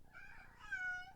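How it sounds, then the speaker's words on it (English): A pet cat meowing indoors, two drawn-out plaintive meows close by, the second rising and louder, heard alone and fairly faint. "And yes, that's my cat."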